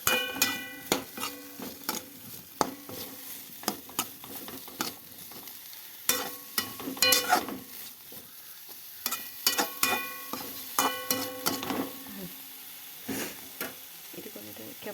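Onion, tomato and spices frying in oil are stirred in a pan, giving a steady sizzle with repeated scraping and clinking strokes from the utensil, close and clear.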